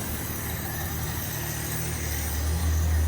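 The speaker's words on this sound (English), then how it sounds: "It's running by itself without me pouring fuel down the carby" A Ford Falcon XE engine, first started after 13 years untouched and fed by a makeshift fuel pump setup, idles steadily with a low, even rumble that swells a little louder toward the end.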